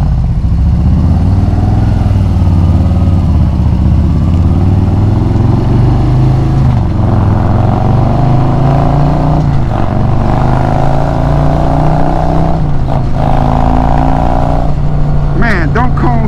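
A loud Harley-Davidson motorcycle engine rumbles and revs steadily through its exhaust, its pitch rising and falling in waves, with a voice speaking over it at points.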